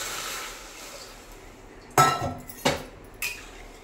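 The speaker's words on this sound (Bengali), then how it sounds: "ডালটাকে আমি ধুয়ে নিচ্ছি।" Fried mung dal is washed in a metal pot, giving three sharp metallic clinks and clanks spaced over a few seconds above a faint background hiss.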